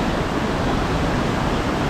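Lone Creek Falls, a big waterfall near Sabie, pours in a steady, dense broadband roar that stays even and continuous throughout, with no voices over it.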